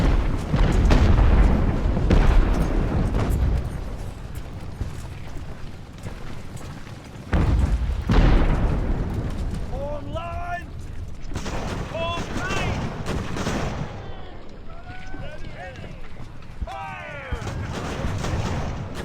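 Naval cannon fire in the age-of-sail strategy game Ultimate Admiral: Age of Sail, heavy booms and rolling gunfire continuing throughout, with a dense low rumble and occasional sharper blasts, mixed with battle noise and faint shouting.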